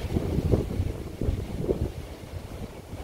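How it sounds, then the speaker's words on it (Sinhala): Wind gusts across the microphone at the Riverston viewpoint in Matale District, Sri Lanka, making a steady low rumble with louder buffeting surges and no voices. "හැබැයි පොඩ්ඩක් හුළඟ තියෙනවා"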